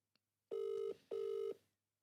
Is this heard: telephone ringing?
yes